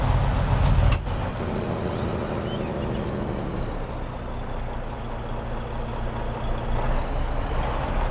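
Kenworth truck in the Farming Simulator 22 video game, a burst of air brake hiss followed by a steady diesel engine drone and idle, close and continuous, with no voices.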